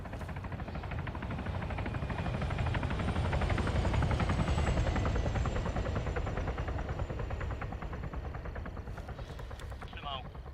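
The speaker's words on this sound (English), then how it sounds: "You hear that? Sounds like a helo." Military helicopter in the Arma 3 Contact game flying overhead, a steady loud rotor and engine drone that swells toward the middle and fades slightly, with gunfire-like bursts mixed in.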